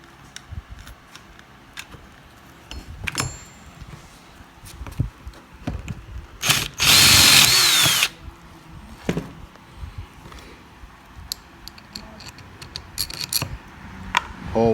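A power drill bores a hole into a bracket held by a clamp in a home workshop, making a single loud, dense burst of about a second amid scattered nearby clinks, taps and handling clatter.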